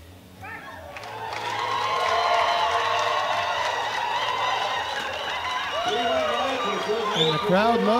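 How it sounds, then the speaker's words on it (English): An arena crowd at a world classic powerlifting championship, women's 84 and 84+ kg classes, swells into sustained cheering and applause that holds steady and loud, with a commentator's voice over the noise. "Crowd loves that."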